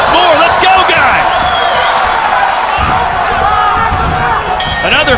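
A packed kickboxing arena crowd at a Glory fight roars in approval after a flying knee, a loud, sustained wall of cheering and whoops filling the hall with sharp slaps and clinks cutting through, and voices blending into the din throughout.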